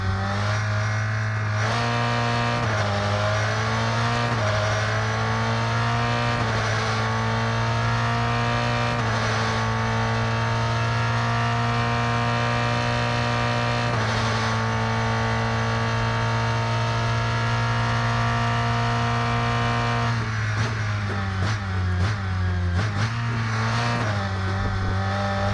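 Race car engine in the Rennsport racing game, revving loud and continuous with steady high-pitched harmonics, dipping and climbing through gear changes and braking, with rapid downshift blips near the end; no talk.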